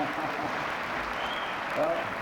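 An audience at a televised political debate applauds in a steady, moderate patter of many hands that is heard from a distance and lasts a couple of seconds.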